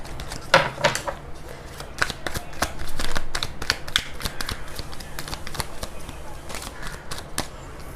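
Tarot cards shuffled and handled at a reading, with rapid crisp flicks and riffles repeating steadily throughout, close up, with a voice faintly present.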